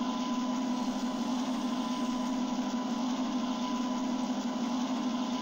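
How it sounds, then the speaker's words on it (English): A locomotive engine in the Trainz: A New Era train simulator game drones steadily with a low, constant hum and a faint whine, unchanging throughout. "I like that engine noise"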